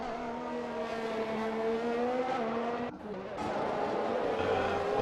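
Formula 1 cars race around a Brazil circuit in the F1 2021 video game, their high engine whine rising and shifting as they pass, with a brief dip midway and a commentator's voice over the top.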